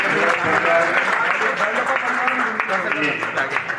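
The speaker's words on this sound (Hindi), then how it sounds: "तालियां बजा करके हम स्वागत कर रहे हैं" A crowd at a political welcome event claps steadily in a thick, continuous burst, with voices and cheers mixed into the applause.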